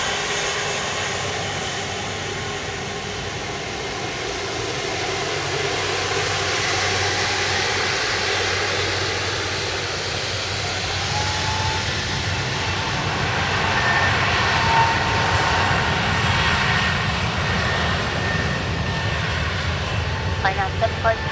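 An airliner takes off from runway 10 right at Dublin Airport, a broad roaring rumble that swells steadily over about twenty seconds while air traffic radio voices talk over it.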